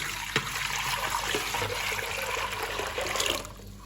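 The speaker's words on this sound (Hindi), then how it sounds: "सबसे पहले मैं डालूंगा इसमें पानी" Water pours steadily into barley sattu being made into a sweet summer drink, a continuous close splashing stream that stops near the end.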